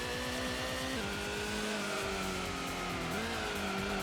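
Car tyres squealing under understeer in the Gran Turismo racing game at Grand Valley, a heavy car's engine droning steadily with pitch shifts as the tyres scrub through a corner, loud and continuous without talk.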